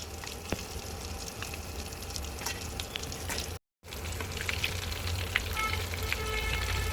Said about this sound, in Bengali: এবার চিকেনগুলো মুচমুচে করে ভেজে নেওয়া হয়ে গিয়েছে